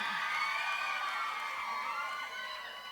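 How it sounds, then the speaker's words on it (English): A pageant audience screams and cheers in a steady, dense roar of many voices, shrill and sustained, fading slightly toward the end. "Come on, I want to hear you guys some more. Scream some more."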